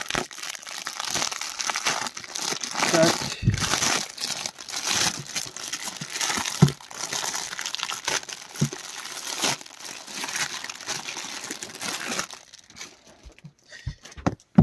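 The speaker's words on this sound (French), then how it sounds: "On va l'ouvrir, l'emballage." Toy packaging being opened by hand: a long run of crinkling, crushing plastic and cardboard rustle with sharp crackles and tears, close and fairly loud, easing off near the end.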